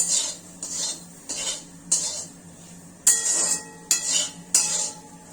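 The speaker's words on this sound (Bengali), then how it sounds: "তো আমি এগুলো একটু ভালো করে ভেজে নিচ্ছি এখন।" Water lily stems being fried and stirred in a pan, with a series of regular scraping, clinking utensil strokes against the metal, about seven in a row, close and fairly loud, no voices.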